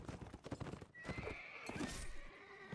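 In Mount and Blade Warband, a horse whinnies loudly over clip-clopping hooves and battle noise, the neigh rising to a drawn-out peak near the end of a short, busy stretch.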